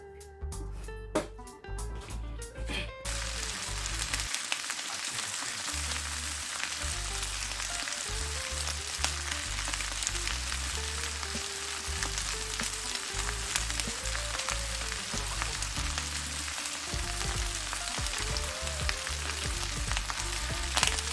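Seafood fried rice with vegetables and crab is stir-fried in a pan for a Nigerian recipe, giving a loud, steady sizzle and fry that runs the whole way with scraping stir strokes on top.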